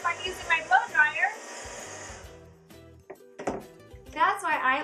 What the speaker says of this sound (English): But really, this is really loud. I can't watch TV or have a conversation if I'm using my blow dryer.